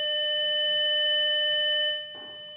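A steady 600 Hz test tone plays loud and continuous through a speaker beside an anemometer, rich with harmonic overtones; near the end it drops in level as a brief soft rustle enters.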